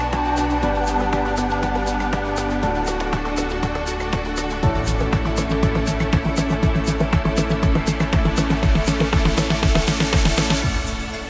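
Melodic house track, a build flowing into the second drop with sparse drums: sustained synth pads and bass give way to a steady pulsing rhythm and bright plucked layers, loud and continuous with no voice.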